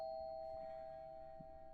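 A single electronic doorbell tone in a video game rings and holds steadily, fairly quiet, with faint thumps underneath.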